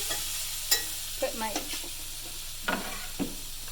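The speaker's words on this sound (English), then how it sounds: "So I'm going to add the apples and we're going to cook those down just until they soften up just a little bit." Apples cook in a hot pan with a steady sizzle, a few scattered utensil knocks and scrapes from stirring over it, close-up and with no one speaking.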